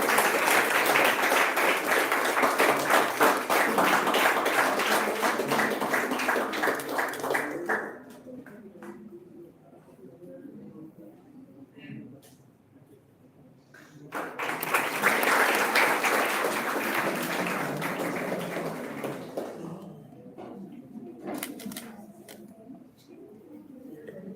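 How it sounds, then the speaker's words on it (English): A university conference audience applauds during a felicitation ceremony with a loud burst of clapping, a quieter lull, then a second strong round of applause. "Have a big round of applause."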